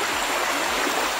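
Continuous rushing babble of creek water flowing nearby, a steady loud wash with no voices.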